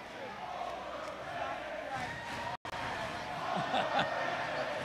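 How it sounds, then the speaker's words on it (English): A high school boys basketball championship crowd taunts a free throw shooter with an 'overrated' chant, a loud, rhythmic roar of many voices filling the gym, with a brief dropout midway and a louder surge near the end. "The Friars are saying overrated to Apiak."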